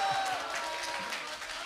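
An audience at a Hong Kong public forum debate gives a brief round of applause, a moderate, steady patter of clapping mixed with faint voices in the room.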